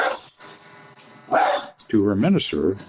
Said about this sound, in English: dog barking, sorry about that